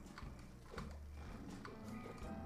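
Horse hooves clip-clopping in the video game Voodoo Vince Remastered, a steady run of soft thuds at moderate level over a busy game soundscape with no talk.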